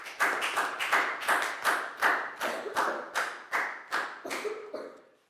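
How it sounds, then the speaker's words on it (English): A small group of Year 4 students clap in a classroom, a series of about a dozen evenly spaced bursts of hand claps, close and fairly quiet, each fading quickly before the next. "So big round of applause for you guys."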